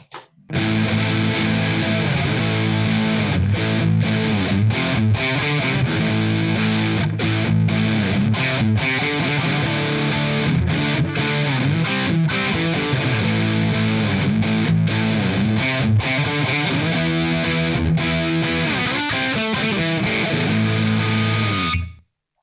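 Electric guitar through a Jed's Ped's Obsessive Compulsive overdrive pedal with the gain raised, playing a steady run of chords and notes, loud and continuous with a gritty, saturated tone, no voices.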